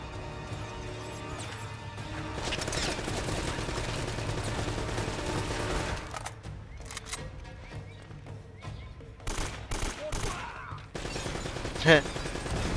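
Video game gunfire in Uncharted: Drake's Fortune crackles in dense bursts, first over a steady rumble and then in sharper, scattered shots later on.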